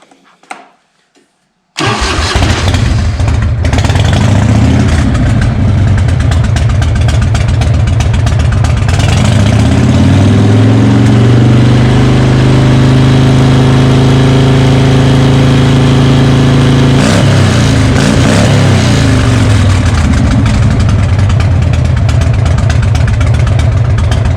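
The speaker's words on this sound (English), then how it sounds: "We're going to start the bike up. Again, it's going to be loud" A Harley-Davidson Evo motorcycle engine cranks after a moment of near quiet, fires, and settles into a loud, steady, throbbing idle that swells slightly midway before evening out.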